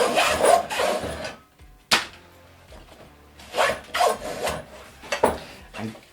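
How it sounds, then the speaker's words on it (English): Webbing straps are pulled through the horizontal slots of a backplate harness. Bursts of scratchy rubbing and sliding come close and clear, with one sharp knock between them and quiet stretches in between. "we're going to thread them through these horizontal slots, and these are going to become your shoulder straps"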